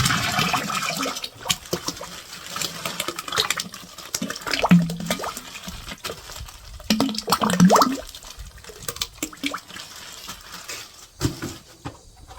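Liquid ceramic casting slip poured from a box into a container of older slip, an uneven gurgling glug and splash that surges and fades in several bursts, close by.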